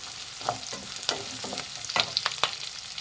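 Curry leaves and tamarind fry for a radish chutney, with a steady close sizzle and repeated scrapes and clinks of a spoon stirring the pan, no talking.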